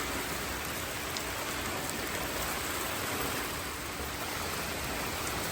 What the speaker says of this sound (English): But that's a lot of rain. Lots of rain.